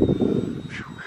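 A radio-controlled model airplane flies outdoors on a cold, slightly windy day, its engine a close, steady drone that eases off toward the end, with some wind rumble underneath.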